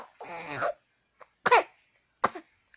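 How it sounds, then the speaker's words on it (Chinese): A woman coughs in short bursts at close range: one longer rough cough, then a faint catch and two sharper separate coughs spaced apart, with silence between. "那你咳嗽了哈？"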